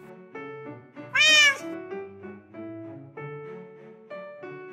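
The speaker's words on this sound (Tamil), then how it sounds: "இவன் தான் எங்கள் வீட்டு பூனை பில்லு" Billu, a nine-month-old pet cat, meows repeatedly in short, close calls at an uneven rhythm, with one louder, higher, drawn-out meow near the start and no talking.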